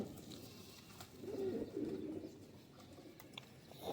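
Pigeons, a fancy breed kept by hobbyist fanciers, give a low soft cooing that swells in the middle, faint and close, with light rustling around it.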